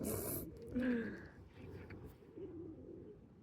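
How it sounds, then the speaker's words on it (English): Pigeons coo close by in a throaty, low burst that swells and fades within a few seconds over a steady background hiss. "oh my god, these pigeons are surrounding me"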